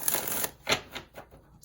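Tarot cards from a 78-card deck riffling and shuffling up close, a dense bright burst of papery flutter followed by two shorter softer shuffles, alone without talk.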